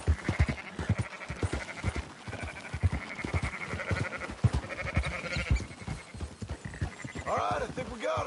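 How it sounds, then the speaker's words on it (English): Sheep bleating in the video game Red Dead Redemption 2, with repeated bleats over steady clip-clopping hooves from riding horses, and voices talking throughout. "Marston, why don't you leave the sheep to me?"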